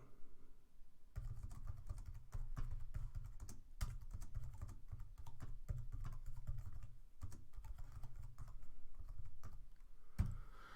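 Steady typing on a computer keyboard while entering text into a Mathcad text box, a close run of rapid key clicks with brief pauses and a final louder tap.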